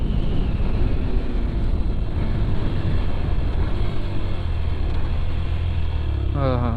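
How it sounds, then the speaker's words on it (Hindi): A Yamaha FZS V3 BS6 motorcycle rolls along under engine braking, its engine a low, continuous drone largely buried in loud, steady wind and road roar, with a brief rising whine near the end. "इंजन ब्रेकिंग भी क्या मज़ेदार हो रही है भाई इसमें।"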